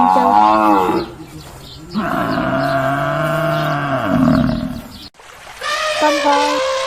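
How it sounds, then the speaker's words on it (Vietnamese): A water buffalo lows in several long, deep, drawn-out calls that rise and fall, loud and close, one after another with only brief breaks. "con trâu,"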